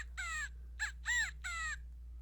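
A California quail in chaparral gives four close, harsh, ringing call notes in quick succession, with short gaps between them, over a steady low hum.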